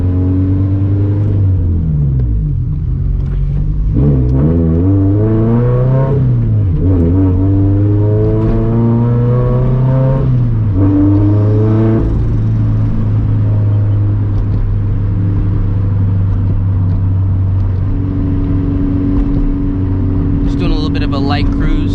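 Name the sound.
turbocharged FRS car accelerating hard with Greddy turbo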